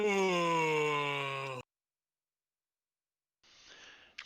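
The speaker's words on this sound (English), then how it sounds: "that was a real yawn" A man lets out one long, drawn-out yawn that falls slowly in pitch over about a second and a half, close and alone, followed by silence and a faint rustle.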